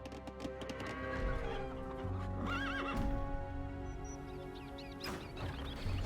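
In Age of Empires II: Definitive Edition, a horse gives a clear whinny partway through. Hooves clip-clop and chickens cluck around it in the game's busy mix of sounds.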